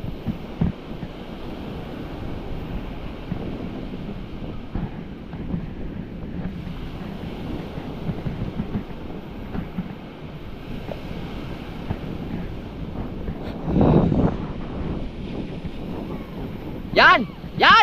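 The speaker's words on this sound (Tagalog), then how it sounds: "Lakas pa rin yung ano, hangin." Strong wind gusts buffet the microphone in a continuous roar alongside a steady surf-like wash outdoors, with short louder bursts near the end and voices faintly present.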